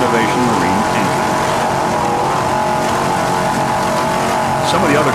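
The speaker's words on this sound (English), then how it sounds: "those two 550 horsepower Innovation Marine engines" Offshore racing powerboat with twin 550 horsepower Innovation Marine engines roars steadily at a grand prix, a loud continuous drone with wind and water noise throughout.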